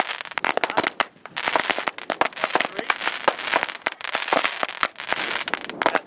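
Fourth of July fireworks set off nearby, a rapid barrage of sharp crackling firecracker bursts and pops coming in dense clusters throughout.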